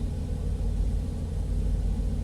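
Highway traffic on US 81 heard from inside a truck cab, a continuous low engine and road rumble, steady and loud without distinct passes.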